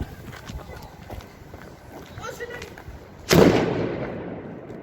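A Mamba 2 firecracker goes off outdoors with one sharp, loud bang near the end, its boom trailing off over the following second after a few quieter pops and rustles.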